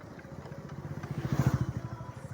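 A motorcycle speeding up: a loud engine with a rising pulsed throb that climbs and grows louder over about two seconds, without speech.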